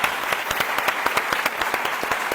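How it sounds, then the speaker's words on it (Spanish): Audience applause at a conference on education, with a steady, moderately loud patter of many hands clapping and sharper individual claps standing out in a rough rhythm. "vamos a hacerlo, un aplauso a nuestros mayores"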